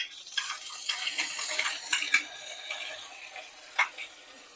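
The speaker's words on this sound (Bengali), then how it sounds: "এবার যেটা পেস্ট করেছিলাম এটা কড়ার মধ্যে দিয়ে দেব।" Spice paste tipped into a hot kadai and stirred for an egg and spinach (palong shak) curry, with scraping, soft sizzling and a few clinks of a spoon against the pan, close and fairly quiet.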